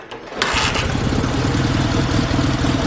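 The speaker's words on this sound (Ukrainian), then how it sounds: "мотоцикл працює, зараз покажемо" A repaired Dnipro-11 motorcycle engine catches and then runs steadily close by, a loud, even, rapid putter that continues throughout.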